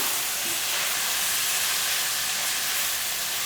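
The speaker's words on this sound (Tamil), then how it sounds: "அதுவும் கத்திரிக்காயை நல்லா இந்த எண்ணெயிலேயே நல்லா வதக்கிடலாம்" Eggplant sautéing in oil in a pan gives a steady, dense sizzling hiss that holds evenly from start to finish, close and fairly loud, with no voices.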